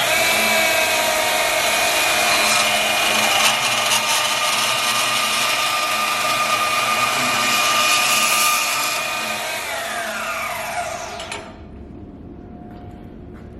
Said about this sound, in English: Pretty impressive for this little tiny bandsaw